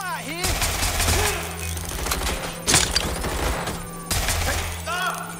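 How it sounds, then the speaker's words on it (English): Rapid bursts of gunfire from a firefight in Watch Dogs: Legion come in dense volleys with a loud crack near the middle, while voices talk over the shooting. "I'm getting shot at"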